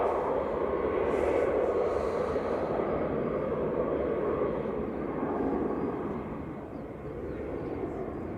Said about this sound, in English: Ryanair 554 from Dublin, just touched down